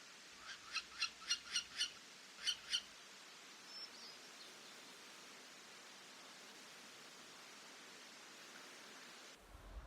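An owl in interior Alaska gives a quick run of thin, high, evenly spaced notes, then two more after a short pause, all faint against a quiet, hissy wild background.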